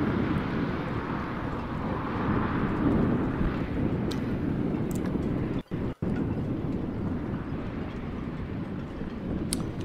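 Steady wind buffets the microphone at a harbour shoreline on a sunny, clear day as cruise ships depart, a loud continuous broadband rush with brief dropouts near the middle.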